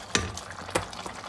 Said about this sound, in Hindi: इसके अंदर अब मैं ऑयल ऐड कर देती हूँ।